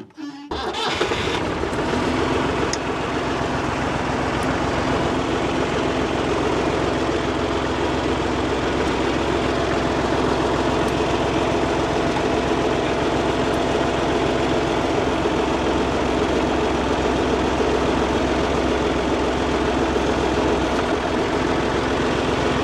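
The engine of a homemade tractor-mounted snowplow starts and then idles, a steady loud low rumble that holds unchanged for over twenty seconds with no voices over it.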